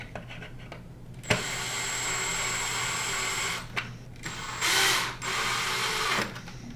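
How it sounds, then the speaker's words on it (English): A power screwdriver tightens screws on the back of a Prolux CTX vacuum around its motherboard, with several whirring runs of a few seconds each, separated by short pauses, close and fairly loud. "We're going to hold the motherboard while we tighten the screws in the back."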